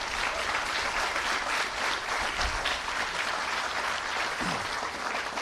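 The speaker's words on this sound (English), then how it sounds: "Now give that a round of applause" Thick, sustained crowd applause at a groundbreaking ceremony for a new ShopRite grocery store in Atlantic City, loud and continuous throughout with no pause.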